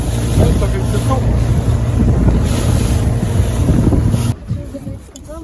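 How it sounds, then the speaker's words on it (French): Steady wind gusting across the microphone at sea aboard a motorboat, with broad rushing noise and some water wash, loud and continuous, dropping away sharply near the end. "le vent s'est quand même levé qu'en fin de matinée"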